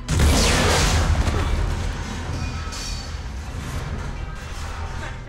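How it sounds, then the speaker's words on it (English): Bomb explosion in the video game Mass Effect 3, a sudden loud boom followed by a long rumbling, debris-filled decay that gradually settles into a steady low roar. "Bomb! Get back!"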